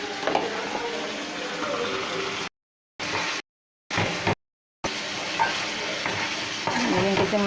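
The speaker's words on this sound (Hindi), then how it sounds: "हम मसाले को हम मिक्स करेंगे।" Chicken liver masala being stirred in a hot pan, a continuous close sizzle with scraping strokes, broken by a few short silent gaps.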